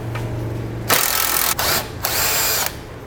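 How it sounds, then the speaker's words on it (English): Power tool spinning off a 17 mm control arm bolt during air helper spring installation on a 2012 vehicle, several loud close bursts of whirring and rattling with short pauses between them. "So now we're going to need a 17 millimeter to remove this bolt."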